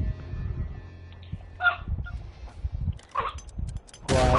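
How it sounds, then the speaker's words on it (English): A hoarse old Yorkie with a worn-out voice barks in rough, honking, chicken-like squawks; a few scattered bursts over a low indoor rumble, ending in a louder rasping bark. "Because he barks so much, he like ruins his voice box and then it fucking sounds like a chicken."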